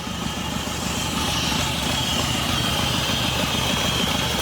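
A Hyundai Santa Fe diesel engine, misfiring and smoking, idles nearby, rough and steady, with a continuous low rumble and no break.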